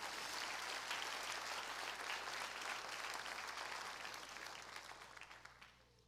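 A church congregation gives loud, sustained applause, with dense clapping filling the space and then gradually fading toward the end.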